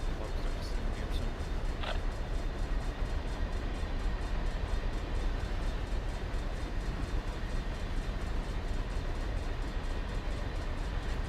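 A BNSF train rolls by in the Run 8 train simulator game, a steady, continuous rumble of railcars with faint clickety-clack, holding at an even level throughout with no pauses.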